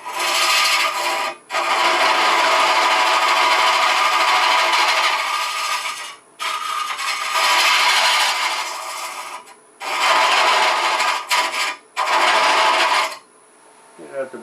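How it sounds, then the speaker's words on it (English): Wood lathe boring out the center of a rough-turned Bradford pear cremation urn: loud, sustained rasping cuts run several seconds each, broken by brief pauses, with no voices. "We're going to cut that bore all the way down through the middle so we have room for the shavings to clear"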